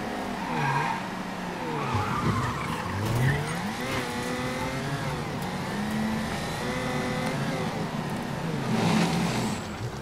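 A car in the video game Mafia 3 is driven hard: a continuous engine drone with shifting revs, plus repeated squealing tire skids, loud and close, with no speech over it.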